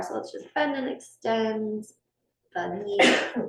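A single sharp sneeze bursts out near the end of a chair yoga and meditation class, following an instructor's calm spoken cues.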